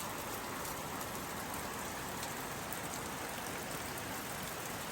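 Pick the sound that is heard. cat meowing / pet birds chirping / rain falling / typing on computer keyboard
rain falling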